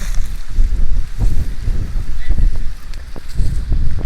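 Strong wind sweeps across an open field where outdoor cooking is under way. It makes a steady, loud, rumbling buffet that roars continuously without a break.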